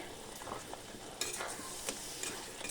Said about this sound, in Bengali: আর এই মশলাটা আস্তে আস্তে করে কষিয়ে নেব